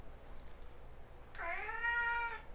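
A single drawn-out cat meow, rising then sliding down, clear and fairly close against a quiet background.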